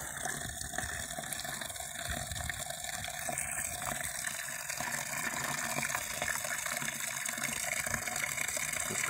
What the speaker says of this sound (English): The water just comes under pressure in the aquifer underground and it just comes right out.